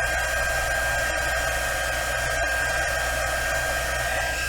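A heat tool blows a steady, loud whir for its full length while melting embossing powder on paper. The noise is unbroken and has no talk over it.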